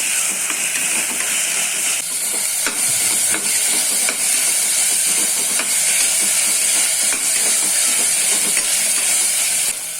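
Carrots and beans sauté with mint in a pan while paneer pulao is cooked, giving a steady, close hiss and sizzle with faint stirring clicks throughout and no talk.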